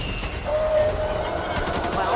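Sustained rapid gunfire from the co-op zombie shooter Back 4 Blood, a dense continuous rattle of shots held at steady loudness through the short stretch.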